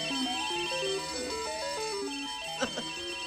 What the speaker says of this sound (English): that picture phone is going to start ringing!